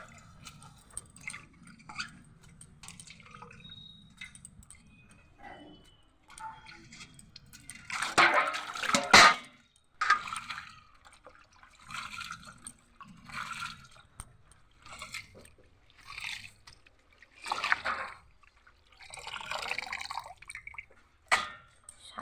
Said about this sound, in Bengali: বেসিনে কি এইসব শাক ধোয়া যায়? আর ঝিরিঝিরি করে আমার মা করতেছে